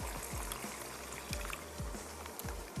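Water is poured into a pan of tomato paste and spices for a koyla karahi, a soft steady trickle with a few faint low knocks, quiet and close.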